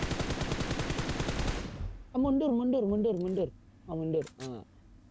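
A loud burst of rapid automatic gunfire from PUBG Mobile fills the first two seconds, then stops, followed by someone commentating in Indonesian.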